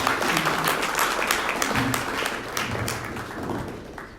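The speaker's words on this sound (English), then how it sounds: "let's give a big round of applause for each of you" Audience applause at a closing session of a spiritual retreat, a full room of clapping at steady strength that gradually thins and fades toward the end.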